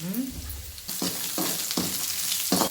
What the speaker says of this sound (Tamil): இப்போ வந்து இதை வந்து நல்லா வதக்கிடணும்